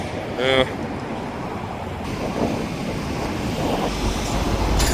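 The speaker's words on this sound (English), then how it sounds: "This is the westbound valley job that just came a little while ago" A westbound freight train pulls out, giving a steady low rumble and rolling wagon noise at middle distance, with a brief tonal squeal near the start and a voice talking over it.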